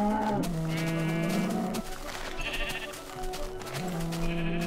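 Minecraft cow mooing, a series of low, drawn-out synthetic calls at moderate volume that rise and fall, with no talk over them.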